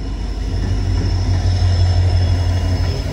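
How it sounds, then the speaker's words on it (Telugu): A diesel locomotive hauls a train past a station platform with a close, heavy mechanical rumble, a steady low engine drone and rolling wheel noise. "డీజిల్ లోకోమోటివ్ పుల్ చేస్తుంది."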